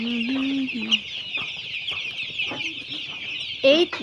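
Eight-day-old chicks cheep and cluck in a busy chorus, close and continuous, with louder peeps rising above the steady high chatter and a person's voice briefly mixed in.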